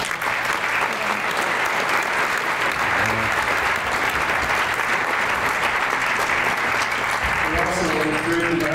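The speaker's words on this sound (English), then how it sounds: "Let's give them a round of applause." Audience applause at a lecture event for the Hickman family members, a sustained dense clapping from a large crowd throughout, with brief voices near the end.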